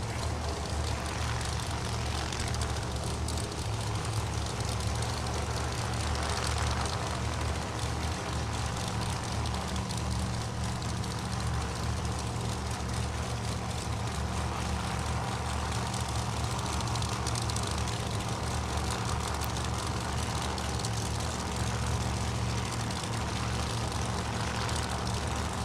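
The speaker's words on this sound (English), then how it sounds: "mystery driver over here in the orange Camaro with a big old blower strapped to the front of it" An orange Camaro drag car with a big blower supercharger on the front runs a steady loud engine drone at a drag strip event, constant and unbroken, with no voices.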